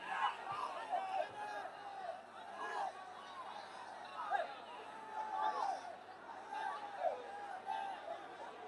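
A crowd at a political conference keeps up a steady din of shouting and chatter, with voices rising and falling in repeated waves.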